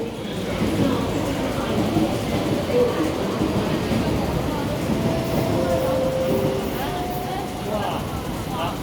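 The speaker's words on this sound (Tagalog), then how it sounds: "nagsarado na po yung kanilang tren. At aalis na siya." A Hong Kong MTR train at the platform pulls away after its doors close, a steady close rumble with brief whining tones from the motors building as it departs, while faint voices murmur in the station.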